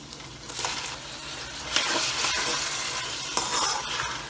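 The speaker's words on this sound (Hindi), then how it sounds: "अब हम इसमें डालेंगे टमाटर।" Tomatoes fry with onions for chicken biryani, a quiet, steady hiss and sizzle with a few soft scraping stirs and light taps from the spoon.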